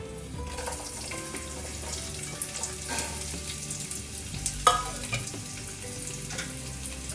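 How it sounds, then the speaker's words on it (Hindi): Finely chopped onions fry with cumin in a pan for a restaurant-style mixed vegetable dish, a continuous sizzle broken by a few clinks and scraping stirs, one sharper knock near the end. "एक बार प्याज को हल्के से चला लेंगे हम।"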